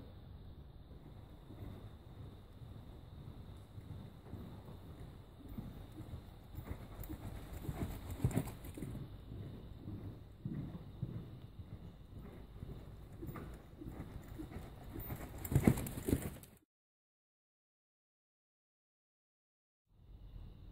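Soft, steady hoofbeats on a soft surface thud along under wind noise, a rhythmic canter that cuts off into silence near the end.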